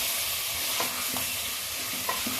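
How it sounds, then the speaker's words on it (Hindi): Chicken and spices roast in a pan, giving a steady sizzle with a few scraping stirs of a spoon, close up and with no talking. "5 से 7 मिनट के लिए हम इसकी अच्छे से भुनाई करेंगे"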